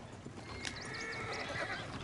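A horse neighs in Red Dead Redemption 2, a short whinnying call rising and falling over about a second, fairly close and clear above a steady background of game ambience, with no talk over it.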